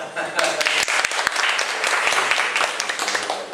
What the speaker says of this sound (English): So let's give him a big applause.